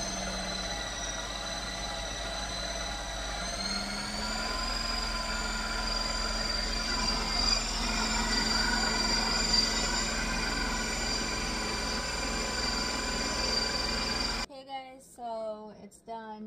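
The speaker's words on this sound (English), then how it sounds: "So we'll turn it on. And we'll hit the ice cream button." A loud, steady mechanical whir and drone from a running ice cream maker, continuous with high whining tones, cutting off abruptly near the end as a voice speaks.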